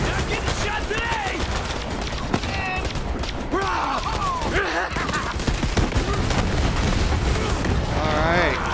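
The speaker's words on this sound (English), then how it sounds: "We are just creating all kinds of havoc here, aren't we? We're laying ground fire." Dense, rapid gunfire in the video game Borderlands 3, with bursts and booms layered into a constant loud barrage that fills the whole stretch, and a voice talking over it.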